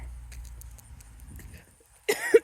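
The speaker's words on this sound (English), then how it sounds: "Excuse me, coughs and all" A couple of short, sharp coughs from one person, close and fairly loud, following a stretch of low rumbling background and faint quiet voices.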